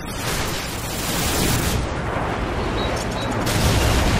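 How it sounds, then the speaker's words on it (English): Airstrike explosions in Call of Duty 4 roll out as a loud, continuous wall of booming rumble that stays dense for the whole stretch, with no clear gaps between blasts. "Friendly airstrike on the way."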